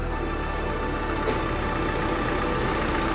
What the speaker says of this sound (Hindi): फाइनली देख सकते हो ये इंजन फिटिंग हो गया और गाड़ी स्टार्ट भी हो गई